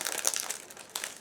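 Plastic bag crinkling as a decal sheet for a 1/700 Flyhawk HMS Legion model kit is pulled out, a close, brief burst of crisp rustles with a second crackle near the end, no speech.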